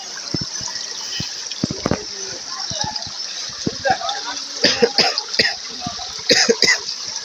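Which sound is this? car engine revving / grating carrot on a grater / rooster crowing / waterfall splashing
waterfall splashing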